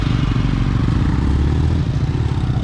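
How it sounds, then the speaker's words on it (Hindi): A Yamaha R15 motorcycle is being ridden on the road. Its engine gives a steady, loud rumble mixed with rushing wind noise, running continuously with no break. "फिर से मैंने अपनी R15 ले ली है"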